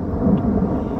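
Deep rumbling thunder rolls through a storm, a loud continuous low roar that swells and holds steady for about a second with no voices.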